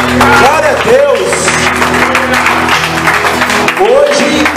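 A church congregation applauding during a worship service, steady loud clapping filling the room while a voice speaks and pitched vocal tones rise over it.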